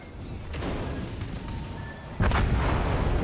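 A battleship's heavy shell fires and detonates in World of Warships, with a steady rumble of naval combat building to a sudden loud blast about two seconds in that then sustains as a booming roar.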